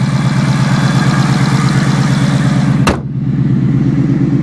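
A 2020 Mercedes G63 AMG engine idles with a steady, deep, throbbing rumble, loud and close, ending with a sharp click near the end.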